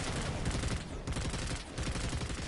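Rapid automatic gunfire from a futuristic infantry battle in Planetside 2, including an NS-15 Gallows rifle, with dense overlapping bursts rattling continuously and loudly for the whole stretch, broken only by brief dips.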